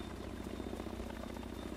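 A helicopter in the video game The Division gives off a steady, droning rotor whir that holds at an even level throughout, with no voices over it.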